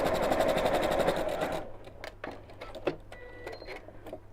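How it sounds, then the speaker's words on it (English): A domestic sewing machine fitted with a walking foot stitches through fabric in a loud, steady rapid whir for about a second and a half, then stops, leaving faint clicks and small handling noises. "your walking foot will be a bit noisy as well"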